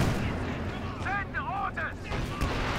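Artillery fire booms in the World War II strategy game Company of Heroes 2, with whistling shell sweeps and rumbling impacts running under a commentator's voice.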